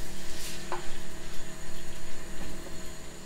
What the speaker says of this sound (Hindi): प्याज को अच्छी तरह से हम फ्राई कर लेंगे।